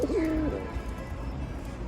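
Pigeons in a loft at night give a soft, low cooing call near the start, then the clip settles into a quiet, steady background hum with no talking.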